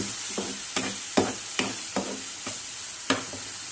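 Vegetables with a squeeze of lemon are sautéed in a pan for macaroni: a close, constant sizzle broken by about half a dozen sharp spatula scrapes and stirs at an irregular pace, with no voices.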